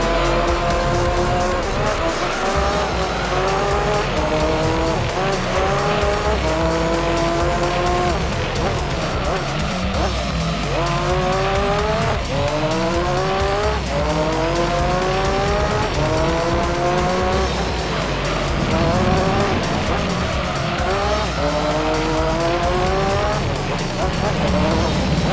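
A road-legal GT1 race car rated at 1100 horsepower roars in Gran Turismo 3. The engine climbs through repeated rising revs with gear changes, and tires squeal in a loud, continuous stretch of driving while a voice talks over it.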